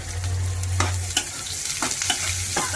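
Onions, green chilies and garlic frying in oil in a pan make a loud, close, constant sizzle with a few stirring scrapes, under a steady low stove hum; no talking.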